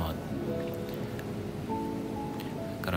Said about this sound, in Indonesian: Karena pada saat ini di tempat saya terjadi hujan